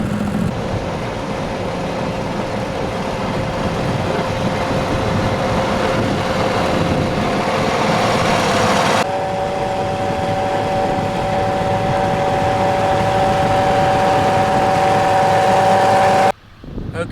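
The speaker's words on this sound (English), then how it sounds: "I'll mow it" A lawn mower engine drones steadily while mowing a cricket pitch, running continuously at an even, fairly loud pitch with a slight shift midway and a brief cut near the end.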